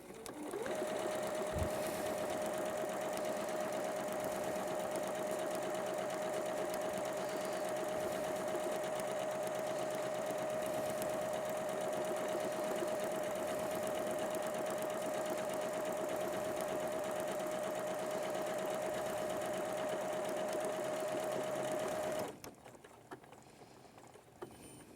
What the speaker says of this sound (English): Put it into buttonhole mode. For me, I'm choosing stitch 17, which is a round buttonhole, and start stitching.